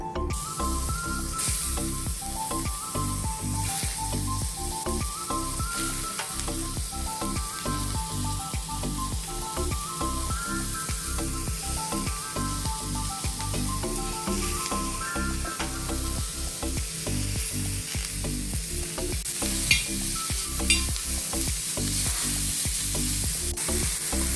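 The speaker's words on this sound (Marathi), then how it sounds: "आता मी थोडासाच एक दोन मिनटासाठी हे तव्यावरती सॉटे करून घेत आहेत भाज्या" Finely chopped vegetables are sautéed on a tawa for a quick tawa pizza, producing a constant sizzle with light stirring and scraping, steady and moderately loud, with a rhythmic background hum and no talk.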